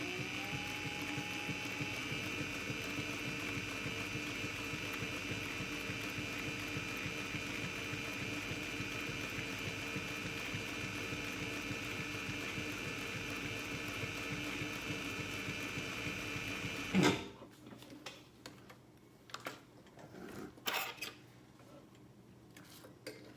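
A sewing machine stitches a cosmetic bag in a steady, even mechanical whir that runs for about seventeen seconds, then stops abruptly, followed by a few faint handling clicks and rustles.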